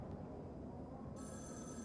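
A telephone rings in a 1974 film, its bright electronic-sounding tone entering partway through over a dense, noisy, muffled background.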